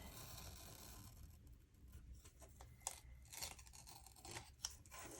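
Scissors trim paper in a budget planner with several quiet, close snips and light rustling of paper, set against a faint background hum.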